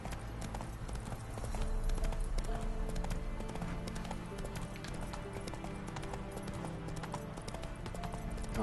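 A horse trots along in the video game Witcher 3: Wild Hunt, its hooves clip-clopping in a quick, even rhythm that stays close and steady over a low background rumble.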